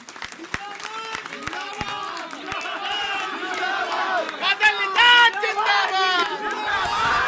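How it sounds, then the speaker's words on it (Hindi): Crowd noise at a Nishad community election rally, with broadband clapping bursts and a swelling mass of overlapping voices and shouts that grows louder midway, lively and close. "और इनके लिए एक बार जोरदार तालियां हो जाए"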